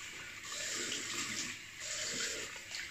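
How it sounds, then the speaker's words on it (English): Tap water runs steadily at close range as a face is rinsed after a shave, a continuous splashing hiss that swells and eases twice over a few seconds. "Rinse the face."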